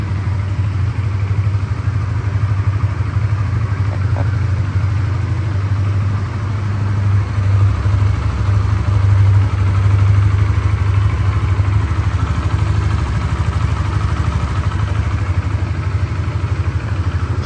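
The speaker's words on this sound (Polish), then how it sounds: "klikam zapłon. No i sami posłuchajcie, bardzo ładnie to chodzi." A Honda CBR 125R motorcycle engine idles steadily nearby, a continuous low even rumble with no voices.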